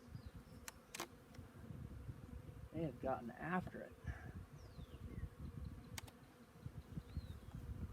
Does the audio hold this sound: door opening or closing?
no